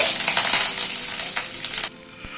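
Mustard seeds, curry leaves and sesame seeds sizzle in hot oil in a pan, giving a loud, dense, continuous crackle that drops off sharply near the end.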